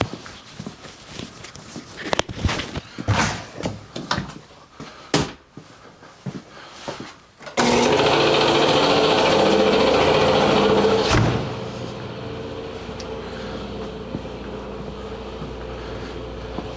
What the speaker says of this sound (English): I'm gonna let the compressor fill up because it's completely drained